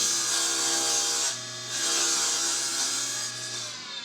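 A table saw cuts plywood to length for a shop air cleaner, its steady high whine and broadband cutting noise loud and close, dipping briefly midway before resuming, with no talking.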